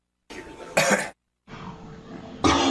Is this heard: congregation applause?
no